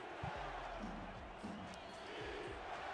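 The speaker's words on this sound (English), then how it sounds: "Vancouver's crowd getting into it" A football stadium crowd in Vancouver roars in a broad, steady wash of noise, fairly distant, with a few thuds near the start.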